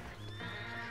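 A horse in Red Dead Online gives a short whinny with a rising, wavering pitch, close and clear over faint hoof sounds.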